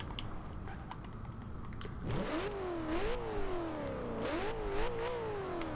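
A 2000 Ford Mustang SVT Cobra R's turbocharged engine in Forza Horizon 2 idles low, then revs up hard after a couple of seconds, climbing and dipping through shifts with a loud, close, snarling tone and no talk.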